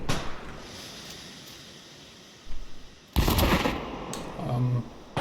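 Bursts of gunfire in the VR shooter VRML crack out over a low background hiss, with a short volley midway and a louder, denser burst near the end.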